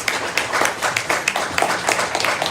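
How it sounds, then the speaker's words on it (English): An audience at a political forum for New York's 12th district breaks into applause, a dense patter of many hands clapping steadily for a few seconds without a break. "getting the applause before you even get to make your closing"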